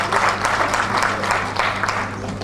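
A shareholders' meeting audience gives a brief round of applause, dense and fairly loud, with a steady low hum underneath.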